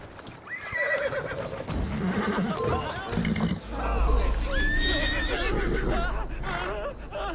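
A horse whinnies loudly in the video game Assassin's Creed Syndicate, with hooves clip-clopping and a voice talking over it, then a low rumble swells beneath.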